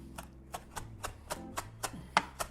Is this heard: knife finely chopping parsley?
yes